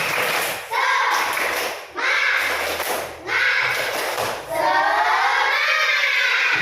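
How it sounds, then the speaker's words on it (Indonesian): Classroom children doing tepuk semangat, a rhythmic clapping cheer: bursts of group clapping and chanting voices in a repeating pattern, with brief pauses between phrases, loud and close. "Untuk menambah semangat kita tepuk semangat"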